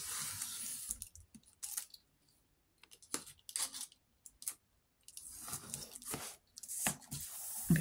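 Card being cut with a craft blade to make a hinge, heard as a few short close scraping and tearing strokes separated by quiet gaps.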